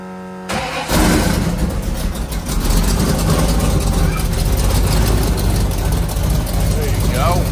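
A motorcycle engine is started: a brief crank, then it fires and settles into a loud, steady, rumbling idle close by.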